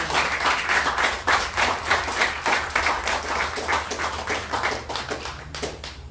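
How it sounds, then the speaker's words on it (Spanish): A small church gathering claps rhythmically to welcome a brother called up front, steady group handclaps in a pulsing beat lasting several seconds, close and fairly loud, with no talking over it. "un aplauso para el hermano"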